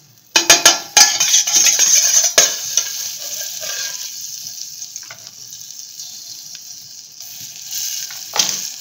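Butter melting and sizzling in a small bowl set over a gas flame while making flourless, yeast-free pizza, with a few sharp clinks at the start, then a steady soft crackle that fades lower and swells again near the end.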